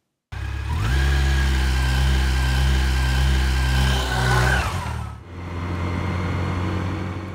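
A 2016 Yamaha FJR 1300ES touring motorcycle being ridden: a loud, steady engine drone with a rising tone, then a brief dip and a return to steady running.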